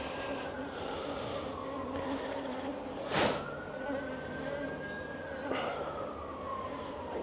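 Honeybees hum steadily around an open busy hive during a spring inspection, a continuous close buzz with individual bees passing near and drifting away.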